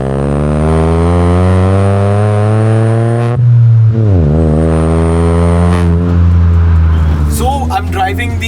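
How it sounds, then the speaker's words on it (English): A Hyundai i20 N Line on Gecko coilovers, its engine droning loudly and steadily from inside the cabin, dipping as it shifts around the middle and then building again, with a voice talking toward the end. "I'm driving the N-Line now with the new Gecko coilovers"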